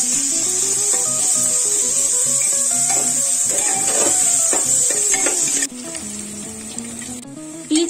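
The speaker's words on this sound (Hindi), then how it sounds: "प्याज को डाल दिया, अब अच्छे से इसको चलाएंगे और हम ब्राउन होने का वेट करेंगे।" Sliced onions sizzling in hot oil in a pan for mutton korma, a loud continuous hiss with scraping and rubbing as a spoon stirs them, the sizzle dropping slightly near the end.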